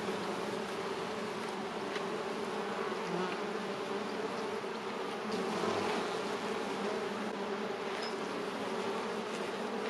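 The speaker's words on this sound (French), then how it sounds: "Vous voyez les abeilles là cherchent leur chemin." Honeybees buzzing at a hive entrance with Asian hornets hovering nearby, a dense, steady, loud drone of many insects, continuous and close with no talk.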